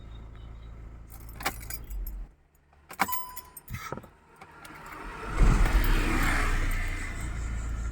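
Car keys jangle up close, then after a short pause a car engine cranks and catches roughly, settling into a steady running rumble.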